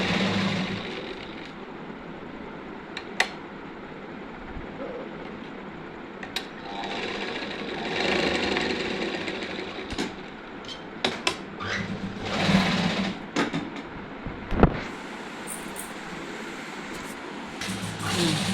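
A sewing machine runs in a steady, fairly soft whir as it stitches fabric pieces together for a short nighty, broken by a few sharp clicks and brief pauses.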